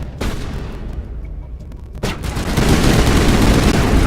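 Rapid bursts of gunfire from Mass Effect Legendary Edition crackle loudly. A sharp volley opens, a second salvo hits near the two-second mark, then sustained dense firing rolls on to the end.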